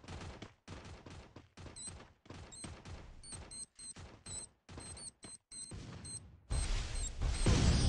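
Decoy grenade in the mobile battle game Free Fire imitating gunfire: rapid bursts of clicky shots in irregular clusters with brief gaps, ending in a denser, louder stretch of noise.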